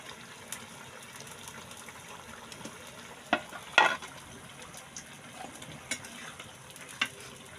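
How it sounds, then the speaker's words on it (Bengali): Fish pieces are added to a boiling curry broth. A faint, steady bubbling runs throughout, broken by a few short splashes and sizzles as the pieces drop in. "তো বন্ধুরা ঝোল ফুটে গেছে, এবার আমি মাছগুলো দিয়ে দিব একে একে।"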